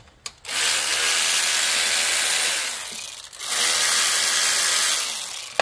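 A handheld power tool whirs loudly as it backs out alternator bolts, running in two sustained bursts separated by a brief pause, close and dominant with no talking.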